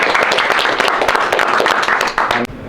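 A crowd applauding at a community gathering, a dense and loud wash of many hands clapping that holds steady for a few seconds, then cuts off abruptly near the end.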